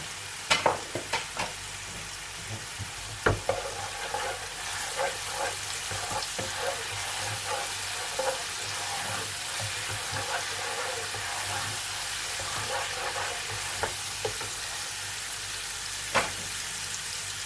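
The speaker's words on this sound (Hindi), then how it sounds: "जिंजर गार्लिक हल्का सा फ्राई होने लगा है।" Ginger and garlic sizzling in oil in a pan, then cloves and cumin seeds added for bhindi gosht, with a steady soft frying hiss and scattered stirring clinks and taps.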